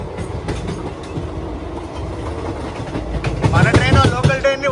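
Chengalpattu to Kacheguda express train on the move, steady heavy rumble and clickety-clack of wheels building louder toward the end with high squeals of wheels on track, recorded from aboard.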